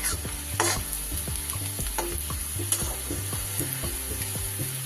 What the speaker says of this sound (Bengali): পেঁয়াজটা বেশ ভালো করে ভাজা হয়ে গেছে আমার